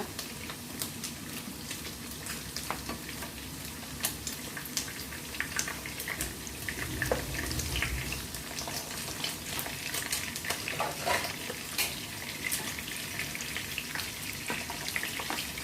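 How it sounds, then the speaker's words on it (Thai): Water bubbles and boils steadily in a pot for chicken tom yum soup, a continuous busy sizzling bubbling sound with no talking. "น้ำเราก็เริ่มเดือดแล้วนะคะ"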